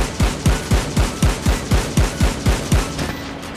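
Sniper fire from the XPR in Call of Duty Mobile: eleven loud, evenly spaced booming shots about a quarter second apart, each with a sharp attack and short tail, with no talk.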